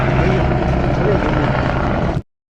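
A helicopter on a Char Dham pilgrimage route lifts off with a loud, steady rotor roar that fills the scene, then cuts off abruptly after about two seconds.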